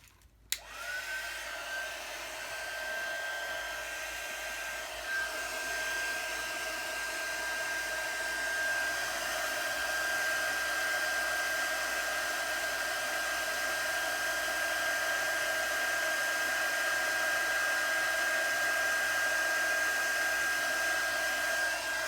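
A heat embossing tool blows hot air over a glittery greeting card, making a steady close whooshing drone with a faint high whine that runs unbroken for over twenty seconds.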